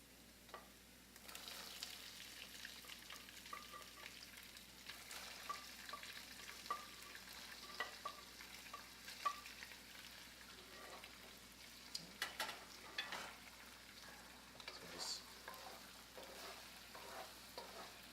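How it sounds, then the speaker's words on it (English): Tofu stir-fries in heated oil for a pad thai, a soft steady sizzle with intermittent scraping and clacking of a utensil against the pan, close and fairly quiet, no talk. "Tofu with heated oil, stir fry it, kind of waiting for the tofu to brown and set up in texture a little bit."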